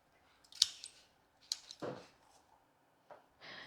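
Scissors snip a small flower stem for a tiny arrangement, with two sharp metallic clicks followed by soft handling rustles and a brief scrape, close and quiet with no talking.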